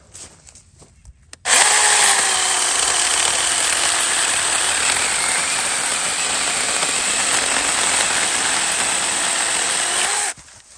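A mini chainsaw cuts through firewood, starting abruptly after a quiet moment and running as a loud, steady high-pitched buzz for about nine seconds before stopping.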